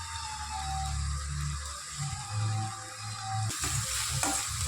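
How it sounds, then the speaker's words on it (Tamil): Sliced onions with salt sauté in a hot pan, a soft continuous sizzle with low rumbling underneath and occasional faint stirring scrapes, moderately quiet and without speech. "வெங்காயம் போட்டுக்கலாம். வெங்காயம் நல்லா வணங்குவோங்க."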